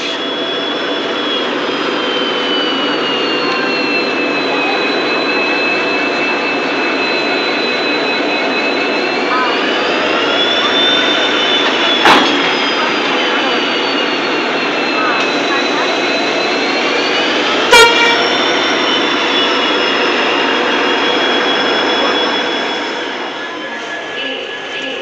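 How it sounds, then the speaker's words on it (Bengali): A diesel locomotive coupling onto the rear of the Ranchi Kamakhya Express throbs in a loud, steady drone with a high whine that bends in pitch, broken by two sharp metallic bangs. "ওই দেখুন ডিজেল ইঞ্জিন লাগছে এখন পেছনে"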